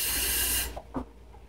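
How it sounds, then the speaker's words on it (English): Water tipped into a pan of Jamaican ackee and corned pork makes a brief hissing sizzle that cuts off abruptly, followed by a couple of faint soft splashes and quiet bubbling. "I tip a little water"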